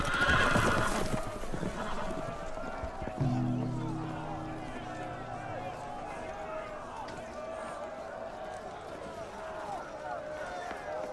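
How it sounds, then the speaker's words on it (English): Loose horses neighing and galloping, with a sharp whinny up front and then running hooves clattering under shouting voices, the hoofbeats fading over several seconds. "The horses! They're loose!"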